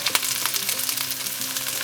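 Carrots sizzle steadily as they fry in a hot pan with other vegetables for fried noodles, a continuous close crackle with brief scraping stir sounds near the start.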